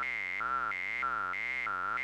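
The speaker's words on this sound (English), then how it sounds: "This is a sine wave." A tone from the ZIM Synth, a browser-based JavaScript synthesizer, wobbling smoothly up and down in a steady repeating pitch sweep, alone and at even volume.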